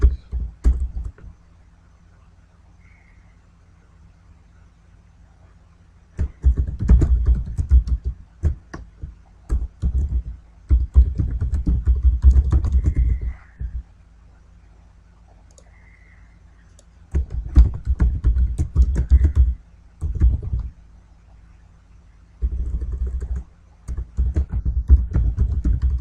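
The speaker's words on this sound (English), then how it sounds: "Simply clicking add button and using these navigation keys" Computer keyboard navigation keys and mouse buttons are pressed in bursts of rapid, close clicking and tapping, broken by several quiet pauses across a long stretch.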